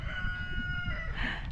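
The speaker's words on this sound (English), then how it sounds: "Rooster's gonna help out." A rooster crows in a backyard garden in the afternoon, a sustained call heard fairly close over a steady low background rumble.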